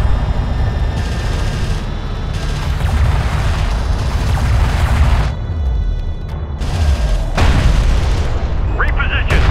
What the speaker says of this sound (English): The sensors post is taking fire.